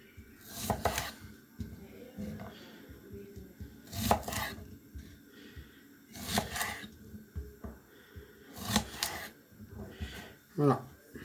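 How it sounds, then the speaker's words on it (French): Knife cutting shallots in half on a board: several sharp, separate chops spaced a second or two apart, close and fairly loud, with a short scrape near the end, and light kitchen noise and some voice between the cuts. "vous allez les couper pour certaines en deux"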